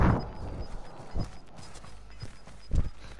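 Teammate footsteps in the video game Warzone, a few distinct thuds spaced irregularly against a quiet background with a faint repeating tone.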